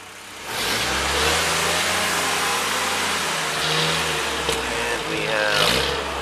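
The engine of a 1943 Jeep GPW, after a head gasket replacement, revs on throttle from a rumbling idle, rising and falling in several loud, close surges.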